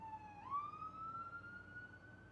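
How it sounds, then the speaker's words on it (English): An ambulance siren sweeps past on a nearby street, a single rising wail that holds steady and loud across the whole stretch, heard alone with no talk over it. "Oh, an ambulance just went by."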